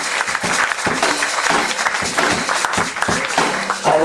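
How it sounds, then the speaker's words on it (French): A church congregation claps and applauds during a testimony service, a dense, loud and continuous burst of many hands close by, with some voices mixed in. "Acclamons pour le Seigneur Jésus."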